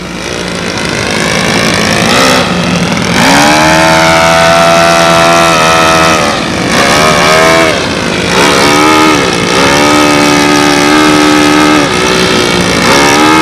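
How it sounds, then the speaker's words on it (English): A P-51 Mustang model airplane engine runs rich on its carburetor, droning loud and close with a buzzing tone that rises and falls in pitch through repeated revs and dips. "We don't have the carburetor adjusted right. It's running too rich on the carbureted side."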